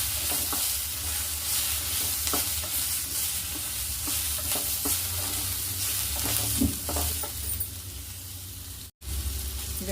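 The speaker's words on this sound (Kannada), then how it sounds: "ಒಂದು 4 ಬ್ಯಾಡಗಿ ಮೆಣಸಿನ್ಕಾಯಿ ಹಾಕ್ಕೋತೀನಿ ಕಲರ್ ಬರೋದಕ್ಕೆ." Four Byadgi red chillies sizzle in hot oil with onions in a pan, with a constant close frying hiss broken by repeated scraping stirs.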